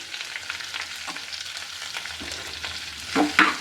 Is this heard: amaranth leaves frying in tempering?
yes